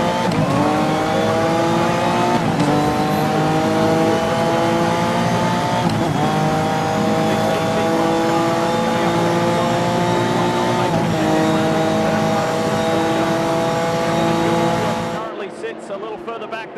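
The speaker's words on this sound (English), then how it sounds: "you see him back working past all these Porsches, which are all racing around" Race cars, Porsches among them, roar around Watkins Glen during a 2004 six-hour race, a loud continuous engine wail climbing in pitch with a shift every few seconds before the noise drops away sharply near the end.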